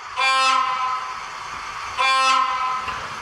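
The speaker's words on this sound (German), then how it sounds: "wenn wir jetzt zum Beispiel das Signalhorn betätigen" Signal horn of an ESU Deutz KG 230 B model locomotive: two short, bright, reedy horn blasts about two seconds apart, close and fairly loud over a quiet background.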